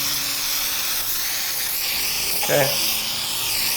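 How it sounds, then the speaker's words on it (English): An aerosol can of contact adhesive sprays in a steady, loud hiss that runs almost without a break, while someone briefly says a word partway through. "you need to spray where it's gonna come in contact with what you just sprayed"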